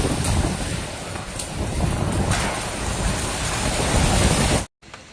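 Heavy rain mixed with hail pounds down during a violent storm in China, a dense, loud, continuous roar with buffeting wind and sharp impacts scattered throughout, then a sudden drop-out near the end.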